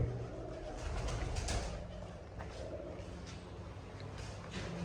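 Soft, repeated cooing of pigeons in an enclosed space, a low murmuring coo continuing steadily beneath faint background noise.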